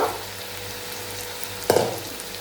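Methi (fenugreek leaf) bhajji deep frying in oil, a low steady hiss that swells into a brief louder bubbling burst near the end, with no talking.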